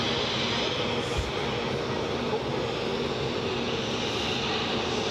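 Jet aircraft engines rumble steadily at Cologne Bonn Airport, a sustained broad roar at moderate distance, with people chatting over it.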